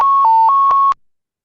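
An electronic alert tone sounds from EMS hospital notification software, a steady clean beep that dips briefly in pitch and then returns, lasting about a second with soft clicks along it, loud and close, with no talk.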